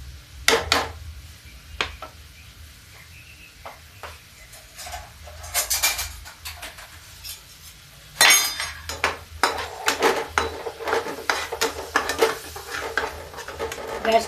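Onion, garlic and ginger paste frying with spices over high flame, a ladle stirring and scraping against the pan in irregular clinks and bursts over a low steady sizzle.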